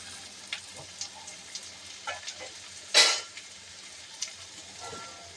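Thinly sliced potatoes sizzle and fry in a pan, a steady crackle with light stirring and utensil clicks, plus one sharper louder burst of sizzling partway through.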